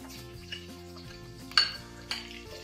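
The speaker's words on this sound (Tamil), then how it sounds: "சேர்த்து வச்சு நல்லா கொஞ்சம் வதக்கி விட்டுக்கலாம்." Onions sautéing in a pot for chicken biryani give a soft, steady sizzle with stirring scrapes and a few sharper metallic clinks of a utensil against the pan, close and moderately quiet, no talking.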